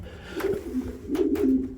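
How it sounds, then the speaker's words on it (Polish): Pigeons coo softly in low, rolling calls, a few overlapping murmurs close by in an enclosed pigeon loft at night. "Ostatnio miałem wrażenie, że chyba było nawet więcej tych gołębi tutaj."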